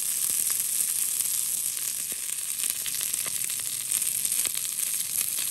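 Veal burger frying in a hot pan, a continuous dense sizzle with crackling pops, close and steady with no talking.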